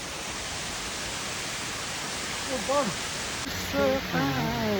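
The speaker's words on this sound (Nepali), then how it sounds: "झर्ना भन्ने झर्ना छ यतै लाग्छ मलाई" Steady, broad roar of rushing water like a waterfall, with a few voices speaking briefly toward the end.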